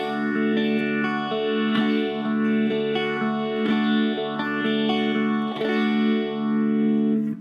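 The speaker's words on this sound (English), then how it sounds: "arpeggiating through the chords." An electric guitar run through chorus and echo effects arpeggiates chords from a song, picking a steady rolling pattern of shimmering, ringing notes, with no voices.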